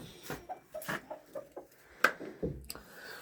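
A rooster on a small farm clucks in short, scattered bursts, fairly close and clear, with a couple of sharper calls near the middle and end and quiet gaps between.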